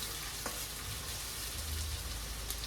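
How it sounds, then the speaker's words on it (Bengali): Hilsa in mustard sauce cooking in a pan, a dense, low, crackling sizzle that runs evenly throughout with a couple of faint clicks, no talking. "এটা হালকা একটু কষাবো তারপরে জল দিয়ে দেবো বেশি কষাবো না"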